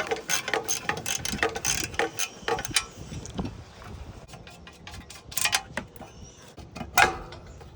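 Ratchet clicks in quick irregular bursts while bolts come off a used portable generator's cover, close and fairly loud, with metallic tool knocks and pauses between runs.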